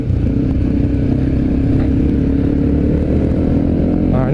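A group of six or seven Yamaha WR 155 supermoto motorcycles riding together on the road, their engines a steady, loud, continuous drone throughout with no pauses or talk.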